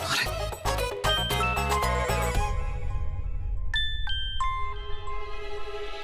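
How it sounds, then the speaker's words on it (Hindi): A phone ringtone plays loud and melodic for an incoming call, its tones repeating near the start, then clearer chime-like notes ring out over background music toward the end of the clip. "इसका फोन आ रहा है।"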